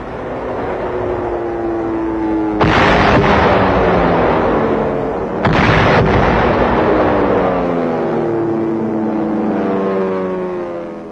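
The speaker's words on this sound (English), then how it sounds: "Coming in at low level, the B-25s blast holes in the walls, opening up the way for tanks and infantry" B-25 bombers attack the walls of Mandalay fort in World War II, opening the way for tanks and infantry. Two heavy, close blasts roll out over a constant droning rumble, and a long reverberating tail follows each one.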